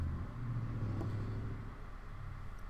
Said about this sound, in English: It was a motorcycle.